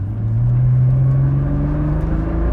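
Nissan GT-R engine droning steadily as the accelerator pedal is pressed, its pitch rising slowly in a loud, continuous rumble heard from close by with no voices.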